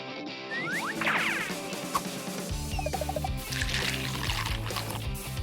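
Water pours into a cat water park, a splashing, trickling stream that starts about a second in and carries on to the end, with clatter and a few light bird-like chirps around it.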